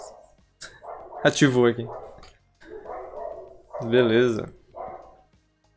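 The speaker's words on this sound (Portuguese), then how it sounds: "Até a cachorrada da vizinhança" Neighbourhood dogs bark in two loud harmonic bursts, each a short cluster of barks, between stretches of close conversational speech.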